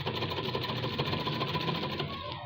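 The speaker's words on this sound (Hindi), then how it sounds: "सिलाई लगानी है।" A sewing machine stitches elastic onto fabric, running steadily and evenly for a few seconds with a soft rapid clatter, fairly quiet and close.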